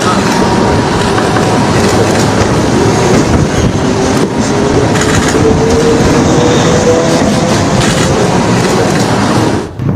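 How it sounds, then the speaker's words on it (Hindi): A train crosses a bridge at night with a loud, continuous rolling roar and rhythmic wheel clatter. A faint squeal rises through the middle, and the sound stays close and steady for the whole passage. "फिर देखिए पीएम ने झंडी दिखाई और ट्रेन आप देख रहे हैं उसी पुल से ट्रेन गुजर रही है।"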